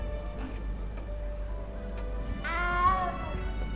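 A cat meows once in the video game Hogwarts Legacy, a single drawn-out mew rising then falling, heard over a low steady hum with a faint periodic ticking in the background.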